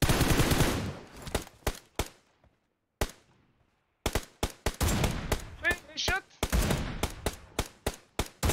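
Gunfire in PUBG Mobile, loud close shots in quick bursts and single cracks separated by short silences, with a voice briefly speaking between the shots.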